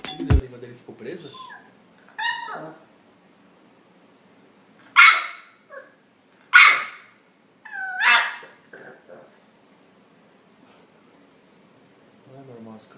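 An English Bulldog gives several sharp barks and yips in separated bursts, close and loud, with quiet gaps between them.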